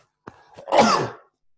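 A single close sneeze with a brief sharp intake before it, then silence.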